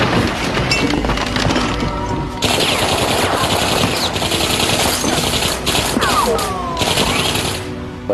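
Bursts of machine-gun fire crackle in rapid, dense volleys, loud and close, with sharp impacts and breaking sounds mixed in during a raid on apartment floors.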